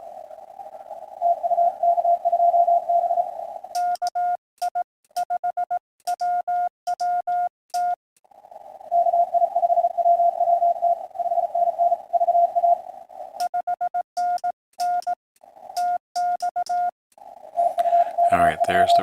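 RTTY amateur radio signal on the 20 meter band: a steady warbling two-tone data carrier with stretches of keyed on-off bursts and interruptions, clear and continuous over nearly twenty seconds.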